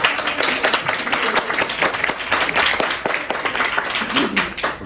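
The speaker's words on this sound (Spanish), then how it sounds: "Aplausos." Students in a biology classroom clap together in a lively burst, with uneven, close handclaps rising and falling, and a few voices mixed in.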